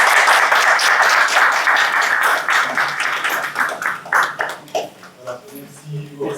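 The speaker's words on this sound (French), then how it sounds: "on peut applaudir le Père Jacques." Applause from a congregation in a church during a Lent day gathering, loud and steady clapping at first that thins into scattered claps before fading, with a voice speaking near the end.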